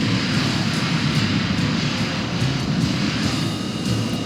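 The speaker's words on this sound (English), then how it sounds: "Man, somebody scrambled a jet." A jet aircraft in the anime film Patlabor 2 gives a loud, continuous engine roar that stays strong and steady from start to finish, with no talking.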